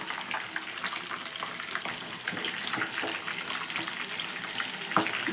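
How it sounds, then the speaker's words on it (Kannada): Garlic chicken kebab pieces frying in hot oil, a steady dense sizzle and crackle close up, with a few louder pops and spatters near the end. "ಗೋಲ್ಡನ್ ಕಲರ್ ಬರೋವರೆಗೂ ಫ್ರೈ ಮಾಡ್ಕೊಳ್ಳಿ, ಬೇಯಿಸ್ಕೊಳ್ಳಿ ಎಣ್ಣೆಯಲ್ಲಿ."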